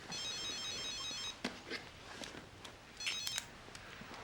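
A telephone rings indoors in a TV drama, an electronic trilling burst followed by a pause and a second ring, with brief handling noises between and no talk.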